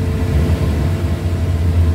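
A BMW E30 drifting, its engine droning loud and close in a steady low roar with slight surging, with no voices over it.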